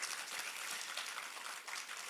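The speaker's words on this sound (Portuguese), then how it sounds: "Uma salva de palmas para o Dylan, por favor." Audience applause at a Brazilian cooperative's presentation, a dense steady wash of many hands clapping throughout, fairly loud and uninterrupted, with no talking over it.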